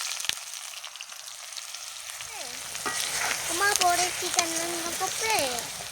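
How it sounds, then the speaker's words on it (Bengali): Onions frying in a handmade clay pot, a steady close sizzle and crackle that swells louder midway, with a voice talking over the cooking. "ফের পেঁয়াজটা দিয়ে দিলাম"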